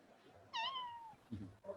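A single drawn-out cat meow rises and then slides downward, clear and fairly close. It is followed by faint low murmuring and soft rustling in a quiet room.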